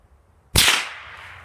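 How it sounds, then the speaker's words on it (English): A single sharp crack of a bullet from a suppressed Savage Mark II FV-SR .22 LR rifle striking a target, with a bright, hissy tail that fades slowly. Nothing else is heard before the hit. "the loudest sound is just the bullet striking the target"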